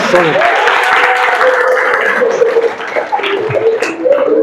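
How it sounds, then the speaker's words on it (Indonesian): Classroom applause for students in a health ethics and law lecture, steady dense clapping throughout with voices talking over it. "kita berikan dulu aplaus"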